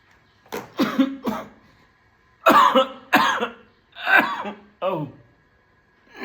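Several harsh coughs in a rough sequence after smoking hash, close and loud, some doubled, with throat-clearing and short pauses between bursts.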